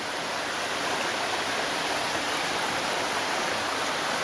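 A river flowing toward Cane River Falls, giving a steady, even rush of water that stays strong and unbroken, close by, with no voices.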